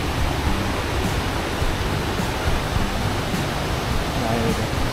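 Water from the Curug Sugro waterfall pours down into a stream below, a dense, constant rushing roar that stays loud and even throughout with no pauses.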